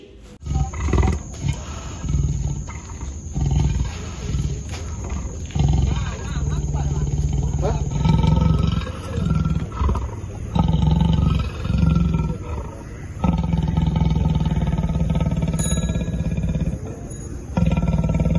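A large female leopard caught in a cage near a village lets out repeated deep, rasping roars and growls, loud and close, in bursts broken by short pauses.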